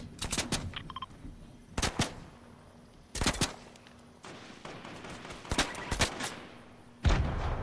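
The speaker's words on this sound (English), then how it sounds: "They're shooting by the lake." Video game gunfire near a lake: several sharp bursts and single shots spread across the stretch, some close and loud, others more distant, with a low steady hum underneath and no talking.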